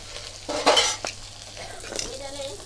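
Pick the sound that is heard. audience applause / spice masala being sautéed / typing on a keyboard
spice masala being sautéed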